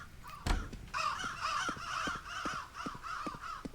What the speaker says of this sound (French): Oh, il y a trop d'oiseaux là.